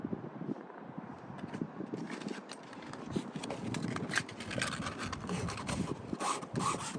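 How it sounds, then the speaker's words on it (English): Sanding a vinyl boat patch and the boat's vinyl hull to rough up the surface, a steady close rasping and rubbing with repeated strokes, growing somewhat louder partway through. "Now that we have that marked down, we can begin sanding now the patch and the boat."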